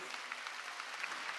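Brief, faint clapping from a church congregation at a Wednesday worship service, a continuous patter of many hands lasting just over a second.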